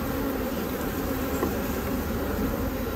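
Honey bees swarm around an opened beehive during a hive split, producing a dense, continuous, close buzzing hum that stays loud and even throughout with no speech.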